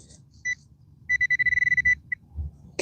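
Metal detector giving a low target tone: a short beep near the start, then a fast run of about a dozen clipped beeps and one last blip, fairly clear over faint outdoor rumble.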